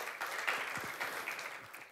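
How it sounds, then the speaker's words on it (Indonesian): Church congregation applauding for Jesus during a worship service, a dense, steady wash of many hands clapping at moderate volume with no talk over it. "kita berikan tepuk tangan dong yang meriah buat Yesus."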